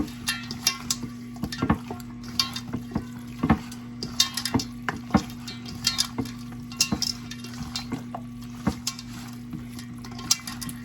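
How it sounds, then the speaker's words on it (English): Garlic parmesan chicken wings being stirred and tossed in a bowl to coat them, with repeated wet clicks and scrapes of a utensil against the bowl, close and steady throughout, with a low hum underneath. "So I'm just mixing this up really good so everything's all coated"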